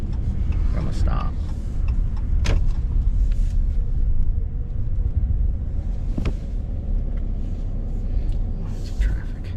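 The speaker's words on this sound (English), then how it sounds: "we'll pull out and we'll do a slow acceleration from a stop" Ram 1500 fourth-generation pickup truck pulling away slowly from a stop, a low steady engine and road rumble from inside the cab with a few brief clicks and knocks, while someone talks over it.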